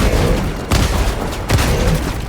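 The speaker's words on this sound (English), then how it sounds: "Against the armored sections of a Charger," Autocannon rounds ricocheting off a Charger's armor in Helldivers 2, a dense, loud barrage of gunfire with heavy booming impacts. Two sharp bursts stand out over continuous battle noise.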